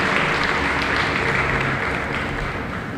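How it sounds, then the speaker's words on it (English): Audience applause for Cromwell Smith, managing director of Media One, at an inter-secondary school debate between BFEC and VISTS; a steady, dense wash of clapping holds at even loudness for the whole stretch. "Could you give him a round of applause?"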